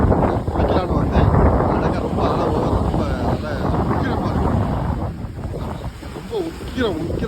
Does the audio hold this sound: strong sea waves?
yes